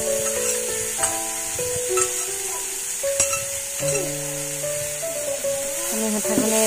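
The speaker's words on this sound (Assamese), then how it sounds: "ইয়াৰ পাছত কুটি থোৱা শাকখিনি আমি কেৰাহীটোত দি দিম" Chopped greens hitting hot oil in a wok after garlic, a constant hissing sizzle with stirring scrapes, while tonal background music plays over it.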